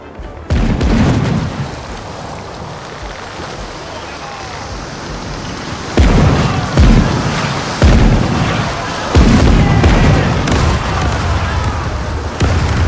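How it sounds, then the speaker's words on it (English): Heavy fort cannon fire booms at ships during a naval battle in the pirate game Caribbean Legend, with a brig involved: loud, repeated deep blasts from about the six-second mark over a continuous rumble of battle and surf, with talk underneath. "Oh, the fort's shooting at them too."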